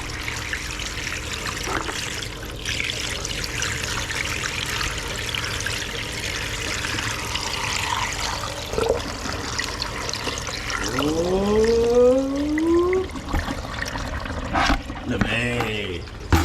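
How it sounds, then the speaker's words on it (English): Fresh pond water poured to prime a filter in a monitor lizard tank setup, a steady close trickle and gurgle throughout, with a voice briefly talking near the end. "Lovely fresh pond water to prime the filter with."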